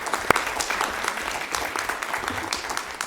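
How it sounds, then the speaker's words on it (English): An audience at a Newport Beach city council meeting gives a round of applause, moderate and steady clapping through the hall, with one sharp clap standing out near the start. "Round of applause."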